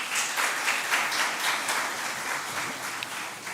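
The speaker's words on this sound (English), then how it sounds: "we need to give our students, teachers, principals a round of applause for that" An audience applauds students, teachers and principals at a Ministry of Education release of 2024 CXC results, a dense burst of clapping for a few seconds with no talk over it.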